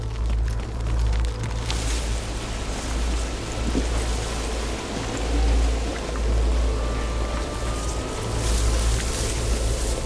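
Water fills up in the DayZ survival game as a steady, moderately quiet rushing pour over a low rumble, with gentle surges rising and falling throughout.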